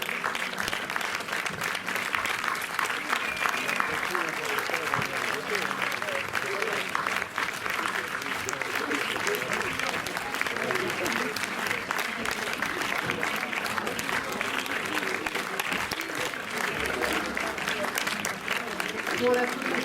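Dense, steady audience applause at a film screening event in a cinema, sustained and fairly loud for the full length without letting up, with a faint murmur of voices underneath.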